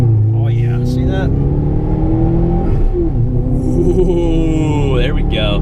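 Subaru STI in sport mode revs and accelerates, a steady loud engine drone with rising pitch, heard from inside the car while people talk over it.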